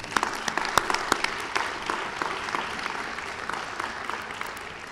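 An audience applauds at a bicentennial commemoration of Frederick Douglass's birth: a dense, steady wave of many hands clapping close by, slightly sharper at first, then evening out for the whole stretch, with no speech over it.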